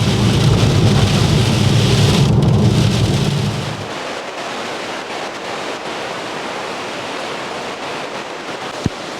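Heavy rain pounds outdoors in Scotland, a loud dense roar with a deep rumble that eases after a few seconds into a steady hiss, ending with a single sharp tap.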